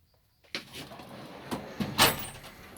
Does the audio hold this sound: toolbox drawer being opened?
yes